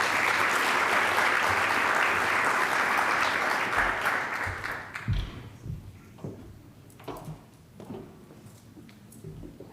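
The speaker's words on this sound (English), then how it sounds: "Let's give him applause." An audience at a symposium bursts into loud, full applause that holds for several seconds, then tapers into a few scattered claps and fades.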